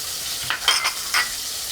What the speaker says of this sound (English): So just toss this together until they begin to soften.